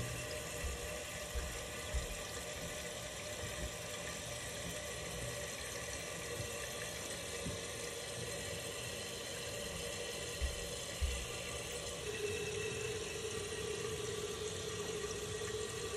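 A Fluidmaster toilet tank refilling with water after a flush, a steady, quiet hiss and rush of inflowing water that holds level throughout, with a faint higher tone joining near the end and no talking.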